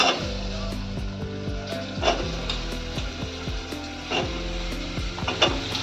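Bottle gourd and chana dal roast in a pan on low gas, giving a steady close sizzle broken by repeated wooden scraping and stirring knocks through the whole stretch.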